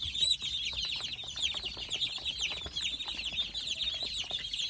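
A brood of young broiler chicks cheeps constantly in a dense, high, overlapping chorus, with softer clucks from nearby chickens in a farm pen and no talk.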